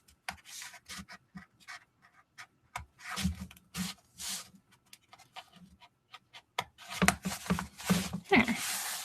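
Craft foam being sliced with a dull knife, giving soft scratchy rasps in short irregular bursts, some fast and clustered, with quiet pauses between strokes.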